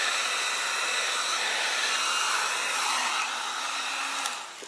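Heat gun or hair dryer blowing hot air onto a solvent-welded polystyrene e-bike battery case, a steady loud whooshing hiss held close that eases slightly near the end.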